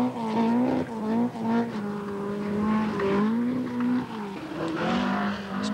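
A rally car at the 1982 Lombard RAC Rally, its engine revving loud and close with pitch rising and falling through gear changes, continuous for several seconds with no talk.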